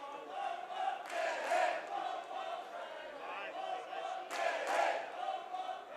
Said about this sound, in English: Crowd making noise as Groom with the fastball up at the letters